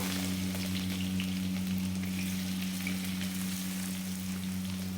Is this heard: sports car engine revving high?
no